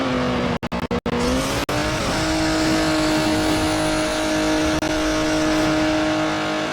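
A car in Midnight Club 3 DUB Edition Remix accelerates on a top-speed test drive, its engine droning loudly and steadily with a rising, sustained whine after a few brief cuts at the start, with no talk.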